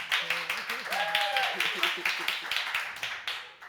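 A conference audience applauding a panelist: steady rhythmic clapping throughout, with a voice talking over it.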